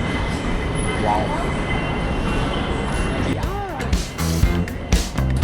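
An airport shuttle train at Hong Kong airport running on its track, a steady low rumble and whir with rising and falling electric motor tones, then clunks and rattles as it moves; people talk over it.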